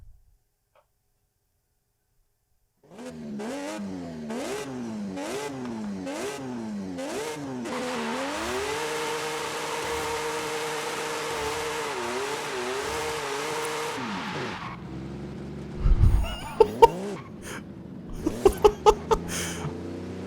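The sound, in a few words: Formula Drift car engine revving and tire squeal, Forza Horizon 5 video game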